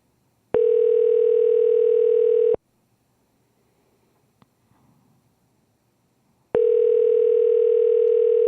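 Telephone ringback tone on an unanswered call, two long steady buzzing tones about two seconds each separated by a silent gap, clear and alone.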